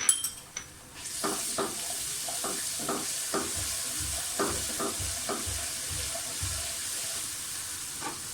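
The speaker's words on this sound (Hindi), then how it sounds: "प्याज हमारा फ्राई हो गया।" Onions sizzle steadily in a hot pan, frying to brown for aloo tahri, while a spoon scrapes and stirs at a regular rhythm, close and fairly quiet.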